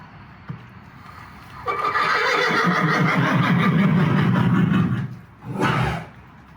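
A horse lets out a long, loud whinny close by, then a shorter neigh follows after a brief pause.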